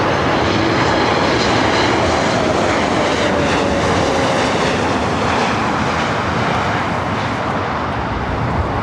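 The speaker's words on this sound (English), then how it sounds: "Eva Air Flight 12 coming in from Taipei at 777-300ER" Eva Air Boeing 777-300ER airliner arriving from Taipei at LAX, a loud, sustained, broadband jet roar close by with little change in level throughout.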